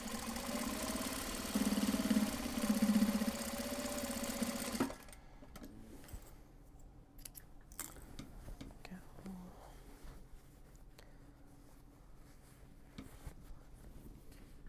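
A sewing machine runs loud and steady for several seconds while stitching the handle seam of a Japanese fabric box bag, then stops, leaving quieter handling noises and soft talk.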